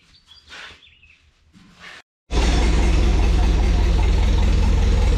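An Allis tractor engine cranks and fires after a ground cable is reconnected, then settles into a loud, steady running drone close to the microphone, after a few seconds of quieter shuffling and handling sounds.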